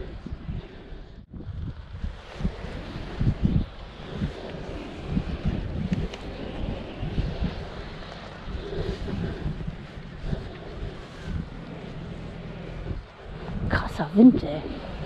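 Steady, heavy wind of force 5 to 8 on the North Sea coast roars and buffets the microphone throughout, with low rumbling gusts and a brief sharper noise near the end.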